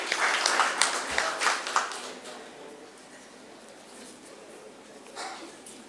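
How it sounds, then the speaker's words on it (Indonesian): A seminar audience at a national law seminar gives a short round of applause, fairly distant and moderate, strongest in the first two seconds before trailing off into room noise. "Semester 6 ya, tepuk tangan dulu"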